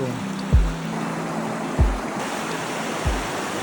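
A clear-water stream flows at the headwaters of the Hala-Bala forest, with a steady close wash of running water and three dull low thumps spaced about a second apart.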